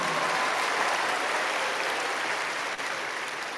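A church congregation breaks into steady, moderately loud applause, many hands clapping in an even wash that tapers slightly toward the end.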